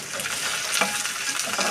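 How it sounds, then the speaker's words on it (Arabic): Brown lentils sauté in hot oil for koshari, crackling in a brief, dense, even sizzle up close. "العدس ابو جبه اهو، حطيته في الزيت"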